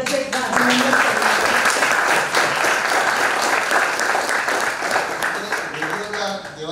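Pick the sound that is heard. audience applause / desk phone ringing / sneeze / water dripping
audience applause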